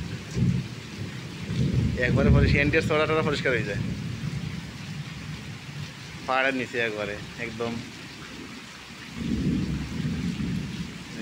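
Night rain pours steadily near a hillside border area while thunder rumbles low in bursts, and someone talks over the storm.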